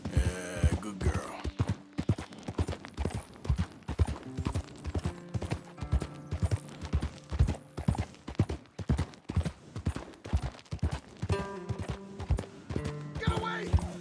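A horse gallops in the video game Red Dead Redemption 2, with rapid, rhythmic hoofbeats pounding close and loud over game music and scattered voices.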